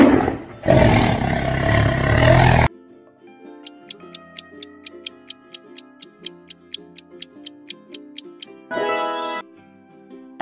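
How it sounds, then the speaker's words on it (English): A tiger lets out a loud, rough roar, followed by a steady run of clock ticks, then a second, shorter roar near the end. "Tiger."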